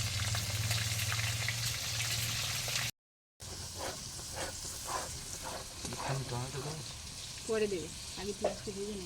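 Onions fry in a pan with a steady sizzle, interrupted by a brief dropout, then continuing more softly under people talking at an outdoor picnic cookout.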